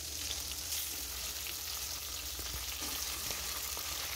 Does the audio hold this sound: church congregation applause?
no